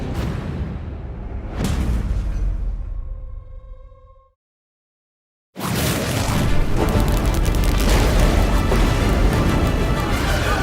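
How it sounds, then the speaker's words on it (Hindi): A heavy boom rings out and fades, then after a brief silence a loud crashing roar of explosion erupts and rumbles on, shaking a ceremony hall. "शक्ति यंत्र से एक विस्फोट हुआ, इतना तेज कि पूरा समारोह हॉल कांप गया"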